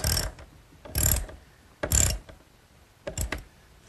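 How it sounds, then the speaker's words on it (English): Lag screws are tightened on the axle strap of a garden cart, heard as four short, close ratcheting bursts spaced about a second apart in an otherwise quiet workshop. "now you can start to see what happens as I tighten the lags"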